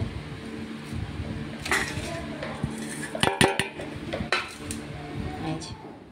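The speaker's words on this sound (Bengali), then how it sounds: "এবারে আমি মিক্সিং বোলের মধ্যে এগুলো ভরে নেব, ভরে একটু গুঁড়ো করে নেব" Sun-dried mango pieces tipped into a metal mixing bowl, with a run of clattering clinks and rattles, clustered near the middle and loud up close, over low room hum.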